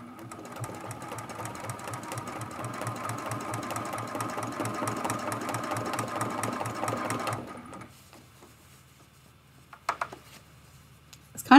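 A sewing machine quilting a lamp post art quilt runs in a fast, steady mechanical patter for about seven seconds, then stops, leaving near quiet with a few faint handling knocks.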